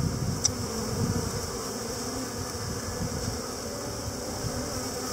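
Honey bees buzz in a steady, dense drone inside a five-frame nucleus hive box as the lid comes down. The hum is close and continuous, with no talking.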